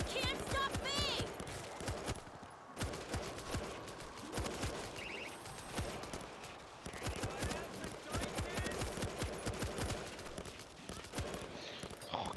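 Machine gun fire in the zombie shooter World War Z, set in Marseille: dense rapid bursts of gunshots running almost continuously at a fairly low level, with game voices and effects mixed in.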